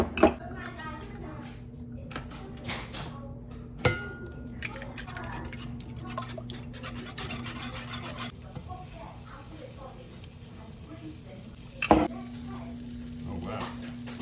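Steak and scrambled eggs frying with bone marrow butter in a pan, a steady sizzle with scraping and stirring strokes and a few sharp knocks of the utensil, close up and without speech.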